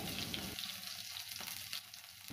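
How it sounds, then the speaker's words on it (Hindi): Onions frying with crushed whole spices over a medium flame for a dhaba-style mutton curry, giving a steady, close sizzle with brief stirring scrapes and no talk. "मीडियम फ्लेम पे हम प्याज को अच्छे से भून जाने देंगे"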